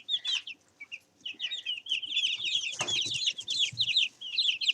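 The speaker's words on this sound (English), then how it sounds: "chicken tonight with a bunch of chickens." Several chickens clucking and chirping close by at dusk, a busy overlapping chatter of short calls with a brief pause near the start.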